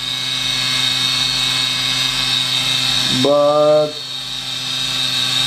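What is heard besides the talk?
mini lathe running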